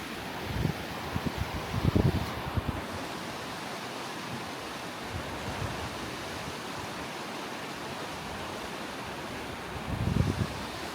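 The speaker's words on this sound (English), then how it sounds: "That's Class 5 rapids right there." Class 5 river rapids in Alaska rush in a steady, close, broadband roar of churning whitewater, with a few louder surges near the start and end and no voices.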